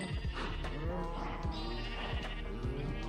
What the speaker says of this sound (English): I need to get some white sheep so I can get different colors for the sheep farm.